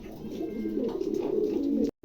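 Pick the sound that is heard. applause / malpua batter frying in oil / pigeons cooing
pigeons cooing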